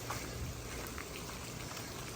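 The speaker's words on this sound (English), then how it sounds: "Guess we're getting a tiny bit more rain wrapping back in around. Oh yeah, it's starting to rain again now." Steady rain falling during Hurricane Milton, a soft, even hiss of drops on surfaces with no pauses, fairly quiet and unaccompanied by voices.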